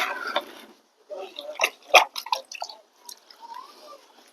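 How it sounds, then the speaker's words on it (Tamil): Water is poured slowly into a potted curry leaf plant's soil, giving soft irregular splashes and drips, close and fairly quiet, with brief pauses between pours. "முடிஞ்சு இப்போது இதில் நம்ம தண்ணி ஆட் பண்ணுவோம்"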